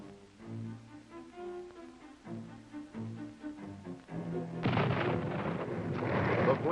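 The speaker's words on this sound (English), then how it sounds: "And the hand grenade." A hand grenade goes off with a loud, broad blast that rolls on in a sustained rumble, following a few seconds of tonal, music-like sound.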